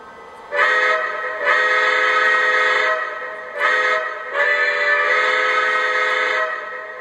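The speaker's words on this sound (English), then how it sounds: "The second whistle is more of a high-toned whistle" Loud, steady whistle of a Lionel Milwaukee Road S3 4-8-4 Northern model locomotive, blown in two long pairs of blasts, bright and harmonic, with brief gaps between them.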